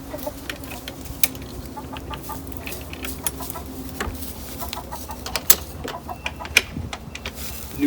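Chickens cluck and squawk inside a custom backyard coop, a scatter of short clucks and occasional sharper calls over a steady low hum, fairly close.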